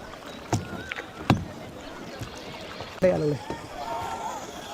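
Paddles splashing and pulling through river water as friends kayak in a rowboat at Dandeli, with a few sharp strokes, a gurgling wash of water and lively voices talking over it.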